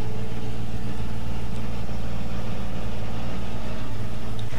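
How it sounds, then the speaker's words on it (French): A farm tractor engine labours under acceleration, a steady low rumbling drone with heavy low-end throb that stays close and loud throughout, with no talking. "ce tracteur, ce que j'aime bien, je pense que vous avez pu entendre, c'est que des fois il galère un peu."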